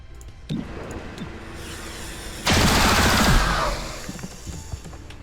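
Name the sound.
gunfire from video game XCOM: Chimera Squad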